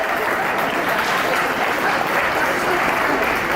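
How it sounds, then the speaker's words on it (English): Steady applause from an audience fills the whole stretch, a dense, even wash of many hands clapping at constant loudness with no talk over it. "Give him a round of applause for volunteering."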